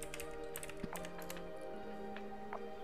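Quick light keystrokes as a search is typed into a computer web browser, a brief run of soft clicks over a faint steady hum, quiet and close with no voices.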